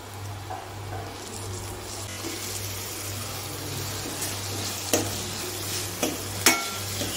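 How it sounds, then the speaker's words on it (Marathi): Tomatoes frying in a pan with browned ginger garlic paste for pav bhaji, a steady soft sizzle with occasional stirring clinks and scrapes growing sharper toward the end, under a constant low hum. "आलं लसूण पेस्ट छान भाजून घेतली आणि त्यामध्ये मी टाकणार आहे आता टोमॅटो"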